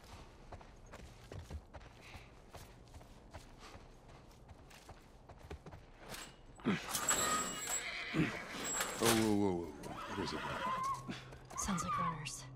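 In The Last of Us Part video game, a horse snorts and whinnies near the end amid clip-clopping hooves and rustling movement, with characters speaking earlier.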